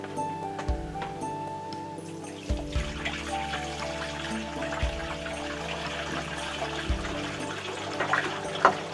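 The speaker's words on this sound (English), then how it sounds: "let's dump that down the bathroom sink" Leftover water, roughly half a gallon, is dumped down the bathroom sink drain of a Winnebago EKKO Class C gas motorhome, a steady low gurgling pour with a few dull thumps, moderately close and without voices.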